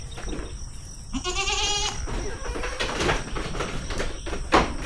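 Goats bleat on a small farm, one clear wavering call near and loud over steady barnyard background, followed by fainter overlapping calls from the herd.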